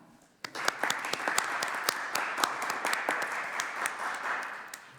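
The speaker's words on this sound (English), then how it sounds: "can we just have a round of applause for Clive" Committee members at a local authority scrutiny meeting applaud together, a dense, sustained round of clapping that starts sharply after a brief quiet moment and continues steadily at moderate volume in a meeting room, without speech over it.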